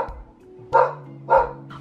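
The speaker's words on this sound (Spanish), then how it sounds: "mi perro está ladrando porque están pintando la casa de aquí atrás" A pet dog barks indoors, giving a few sharp, close barks spaced about half a second apart over a steady low background hum.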